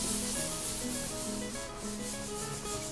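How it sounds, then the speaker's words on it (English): Workers sand the interior walls of a gym before painting, making a faint, steady rubbing and scraping that runs continuously with no talk. "what the guys are doing is they're coming behind and sanding everything"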